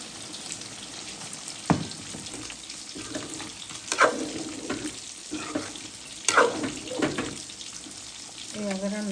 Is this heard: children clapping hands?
no